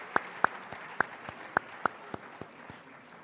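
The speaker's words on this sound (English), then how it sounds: "A round of applause for them too." At a book launch ceremony marking 150 years since the Sargrenti War, roughly ten sharp, separate handclaps sound in a slow, fairly even rhythm. They are quiet and sparse rather than a full crowd ovation, with no talking.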